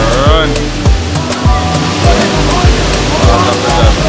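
Water gushing at very high pressure, a loud continuous rushing roar close by with intermittent clanking and a voice talking over it in an outdoor cooking spot with a crowd.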